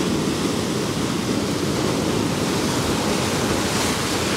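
Sea waves breaking on the shore during a morning of lure fishing from the coast, a continuous loud wash of surf filling the whole clip with steady broadband roar and no voices.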